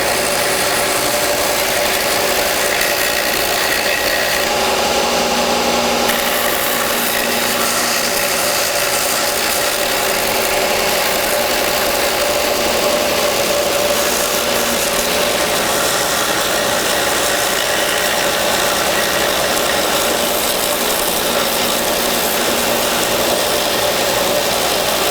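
Power sander working a root burl sculpture, a steady loud whirring grind held at close range with small shifts in tone as the tool moves across the wood.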